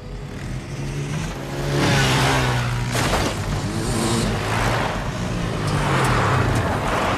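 Car engines rumble and rev as vehicles draw nearer, a loud, steady roar swelling over several seconds.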